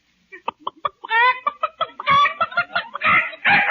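A human voice imitates a rooster over a telephone in an old radio comedy, with clucking bursts building into a longer crowing call, close and clear with no other talk.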